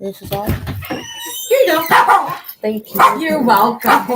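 Dogs bark repeatedly and loudly nearby while people trade short spoken exchanges, the barks overlapping and cutting through the talk.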